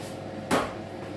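A single short thump as an oven door swings shut on a baking dish of mac and cheese, one brief knock in a quiet kitchen with no talk over it.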